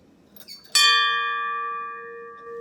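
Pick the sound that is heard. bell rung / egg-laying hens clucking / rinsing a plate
bell rung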